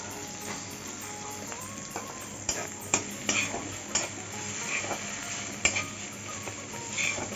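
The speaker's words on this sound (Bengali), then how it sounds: "নারকেলটা দিয়ে একটু ভালো করে কষিয়ে নেব" Grated coconut with papaya and spices is stir-fried in a pan, with a steady sizzle under repeated scraping and tapping spoon strokes against the metal, close and moderately loud.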